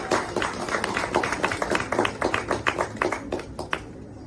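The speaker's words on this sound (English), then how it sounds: "Let's just give a hand of applause to all the people who help support the graduates." Audience applause at a 2022 graduation ceremony for Porter, honouring the graduates' supporters: a moderately loud crowd of hands clapping in dense, irregular bursts throughout, tapering slightly toward the end.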